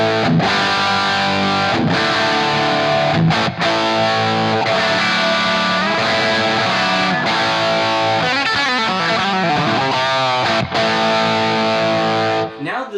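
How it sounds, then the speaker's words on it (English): An electric guitar played through a Marshall JCM 800 2204 amplifier with the gain at 6 gives a thick, sustained distorted tone, with held chords and a run of faster notes, loud and continuous throughout. "now the distortion really is starting to come out."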